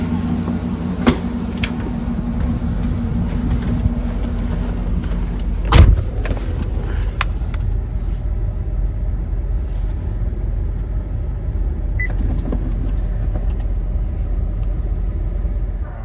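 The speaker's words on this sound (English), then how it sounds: "I'm about to give it a test drive," A 2008 Cadillac Escalade on a test drive after a rear differential service, giving a steady low road rumble and engine drone throughout, with a brief louder knock near the middle.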